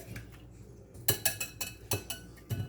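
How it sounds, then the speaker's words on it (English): Eggs and batter are being whisked in a bowl for a fish fry, with a series of rhythmic metallic clinks as the whisk strikes the bowl, about six strokes, fairly close. "And use a whisk"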